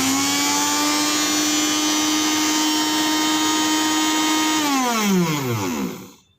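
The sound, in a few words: Kajafa mixer grinder running after being switched on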